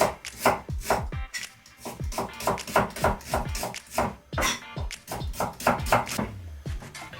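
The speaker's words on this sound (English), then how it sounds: "I've halved and peeled the onion, and then we're just going to slice it as finely" A knife finely slices a halved, peeled onion on a cutting board, steady rhythmic slicing strokes close by, with no talking.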